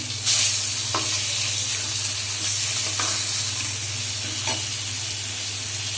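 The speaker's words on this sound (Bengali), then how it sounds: "পেঁয়াজটা আমি একটু লাইট ব্রাউন করে এখন আমি মশলাগুলো দিয়ে দিচ্ছি একে একে" Spices are added to lightly browned onions frying in a pan while preparing a prawn bhuna, giving a steady close sizzle with occasional stirring scrapes throughout.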